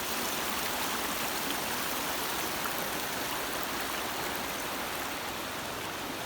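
A river stream flows steadily in a broad, dense rush of water, close and even throughout, with no voices.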